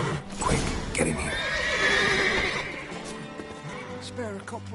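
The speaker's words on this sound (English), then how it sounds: "Gotta calm all the horses before they wake the guards." Horses in The Witcher 3 neigh and whinny loudly and close by, with hooves clopping underneath, while people talk over them.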